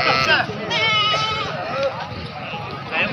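Goats bleat with wavering cries at a goat market, heard close and loud amid the bustle, while people talk over and around the calls.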